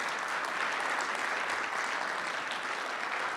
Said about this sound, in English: Can you guys give them one more big round of applause?